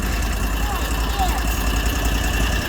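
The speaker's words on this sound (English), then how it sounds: "now let it idle down a bit" A vehicle engine at a campsite idles with a low, steady rumble and faint mechanical hum, even and unbroken, close by with no talk over it.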